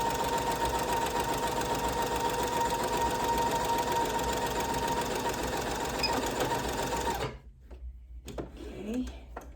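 A sewing machine runs a straight stitch on scrunchie fabric, a loud, close, continuous mechanical whir for about seven seconds before stopping abruptly, followed by faint handling noises.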